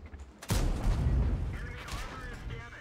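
Tank cannon fire in World of Tanks on a French AMX M4 45, a loud booming shot erupting suddenly and rumbling on for a couple of seconds, with a faint voice in the background.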